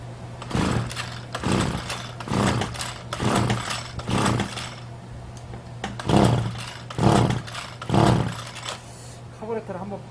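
A Kyeyang brush cutter, just reassembled after a piston replacement, is pulled over again and again without starting. About a dozen rhythmic rasping cranking bursts sit over a steady low hum, with people talking throughout.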